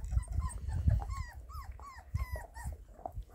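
Puppies outdoors on a cool August day in Wyoming, near agility equipment such as a wobble board, give a string of high, rising whimpers and whines over low rumbling and scuffling, fairly close and continuous.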